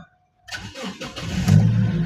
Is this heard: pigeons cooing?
no